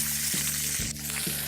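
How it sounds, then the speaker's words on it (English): Wild duck gizzards sizzle in a pan, a steady loud frying hiss with a few brief clicks and crackles, heard alone without voices. "Okay, these have sizzled for anywhere between 6 and 8 minutes"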